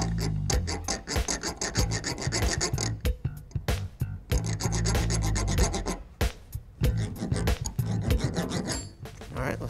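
A hand thread restorer file rasps back and forth over the flattened, damaged threads of a bolt, giving steady close scraping strokes in a quick repeating rhythm with brief pauses between bursts.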